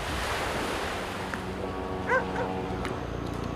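Ocean waves wash onto the shore of Yonaguni Island in Japan, a steady, full rush of surf throughout with a brief animal call breaking through midway.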